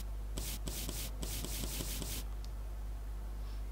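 In the Switch game Ma Ferme 2018, a broom scrubs with a rapid series of about a dozen scratchy brushing strokes in a quick rhythm, then stops, over a steady low hum; no talking.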